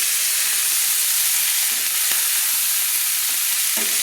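Malabar spinach stems and potatoes sizzle steadily in hot oil in a wok, a dense close frying hiss broken by occasional scrapes and clinks of stirring.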